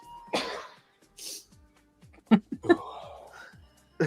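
Several sharp bursts: a sneeze and coughs in quick succession, with brief voices between them, close and fairly loud.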